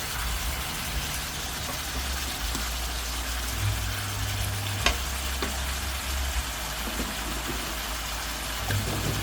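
Chillies frying in a pan while cooking spicy stir-fried eel, a steady close sizzle with a low hum under it and a few faint clinks, no voices.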